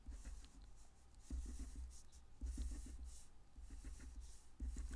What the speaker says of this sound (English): So just do a really quick sketch.